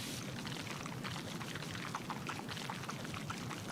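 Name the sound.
pressure washer water spray in video game PowerWash Simulator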